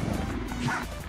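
A dog barks and yips in a video game, a short burst of close, excited yelps over a dense game soundtrack.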